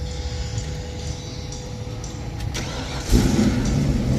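A sports car engine at a car show cranks and catches about three seconds in, then settles into a steady idle after a stretch of low background rumble.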